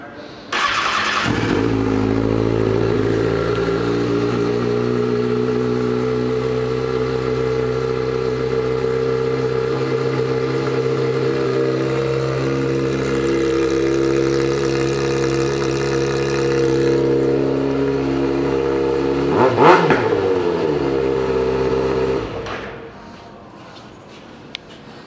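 A 2011 Kawasaki Ninja ZX-6R sport bike starts and idles steadily at close range, giving one brief sharp rev near the end before the engine cuts off.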